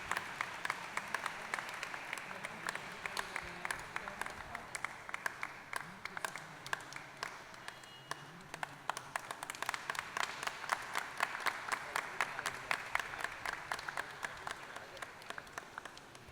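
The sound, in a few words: congregation clapping to welcome the new bishop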